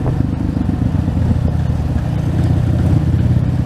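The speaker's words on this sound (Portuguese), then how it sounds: "Essa moto aqui ela é meio enjoadinha" A trail motorcycle's engine rumbles loud and close in a low, steady drone, holding a constant throttle without clear rising revs.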